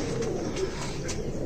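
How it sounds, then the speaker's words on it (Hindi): A white duck pigeon coos close by in a brief, low, soft burr over steady background noise. "वाइट डक का कबूतर है ये"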